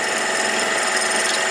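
A wood lathe turns a wooden bottle jig while a cutting tool shapes it, giving a steady, close, bright scraping whir with no pauses.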